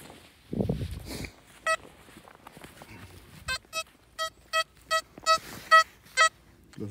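Metal detector sweeping over a buried coin at a cave outing gives a string of sharp, identical electronic beeps, about nine of them in quick succession after a few dull thumps, loud and close, with no talk.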